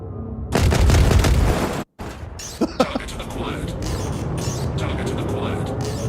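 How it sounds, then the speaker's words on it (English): Missiles launching from a ship in the space game Star Citizen, a loud rushing boom up front followed by a cut, a few sharp pops and a lingering rumble, with a voice talking intermittently. "Let me get some missiles off."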